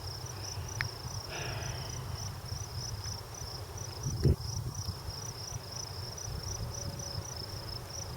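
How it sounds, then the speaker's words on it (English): Crickets chirp steadily in a continuous pulsing trill in a field, with a faint low hum of distant traffic or wind underneath and a brief knock partway through. "It is the sounds of nature, crickets chirping."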